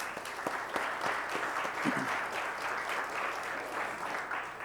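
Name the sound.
audience applause for event volunteers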